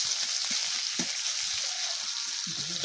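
Potatoes tipped into a pan of onions already frying, giving a steady, close sizzle with a few soft stirring knocks and scrapes.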